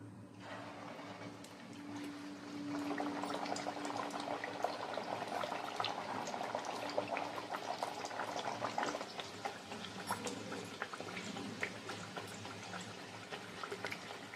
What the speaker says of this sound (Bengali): পুরিটা দিয়ে ভেজে নেব।